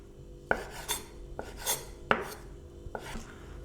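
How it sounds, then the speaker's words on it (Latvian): A knife slices crab sticks into long strips on a cutting board, giving four sharp, evenly spaced chops with softer scraping between them, close and clear with no voices. "ar nazi vienkārši garanās tādās strēmelēs to sagriežu"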